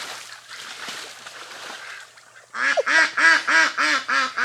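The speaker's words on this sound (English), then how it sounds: "Happy ducks." Ducks quack in a rapid run of loud, repeated nasal calls close by, following a few seconds of softer rustling and splashing.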